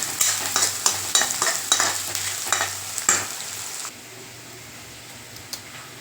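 Onions and garlic sizzle and crackle in a hot pan while a utensil stirs with repeated scraping strokes, then the sizzle settles into a quieter steady hiss.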